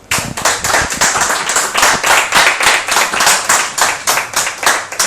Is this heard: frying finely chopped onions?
no